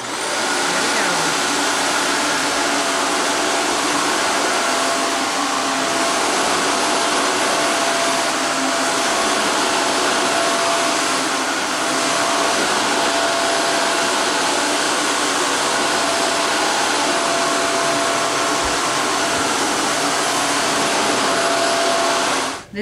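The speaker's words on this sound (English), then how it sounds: "This vacuum has a lot of power, and I can definitely feel it as I vacuum with it." Shark Apex DuoClean vacuum cleaner running on a hard floor, a loud, steady airy motor roar with a faint whine that holds unbroken for over twenty seconds before cutting off at the very end.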